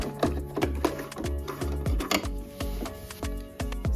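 A sewing machine stitches a neckband onto a garment with a fast, steady mechanical run of regular needle thumps, close and loud, with no talk.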